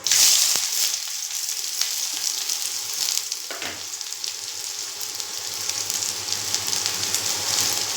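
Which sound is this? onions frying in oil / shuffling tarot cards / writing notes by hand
onions frying in oil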